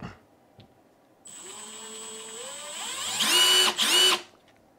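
A Milwaukee M12 Gen 3 FUEL impact driver runs in mode 2, a nearby whirring motor whine that starts abruptly, climbs in pitch, then rises into louder rattling bursts before stopping.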